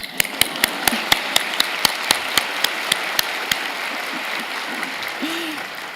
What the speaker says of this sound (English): Oh, sure, we can applaud.